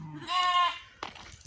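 A single sheep bleats once, a wavering, nasal cry close by, followed by a few soft shuffling sounds.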